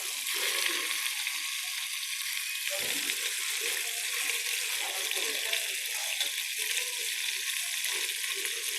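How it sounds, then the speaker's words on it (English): Chicken pieces browning in a hot pan, giving a steady hiss of sizzling fat that runs continuously with small crackles and shifts as the meat is moved. "next we're going to be adding in our chicken. You should be hearing sizzling."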